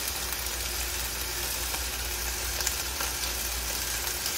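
Pork chops brown in a frying pan with a steady, close, dense sizzle that holds unchanged throughout.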